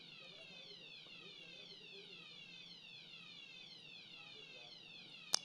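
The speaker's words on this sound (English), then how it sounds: "Is it an alarm?" An electronic fire alarm sounds faintly and continuously in a rapid, repeating sweeping whoop pattern within a room, ending with a brief sharp click.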